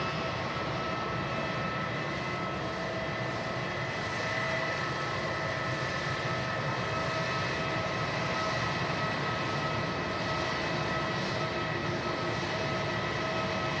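An airliner rolls onto the runway at Manchester Airport, its jet engines giving a steady, loud, broadband roar and whine that holds without a break and swells slightly midway.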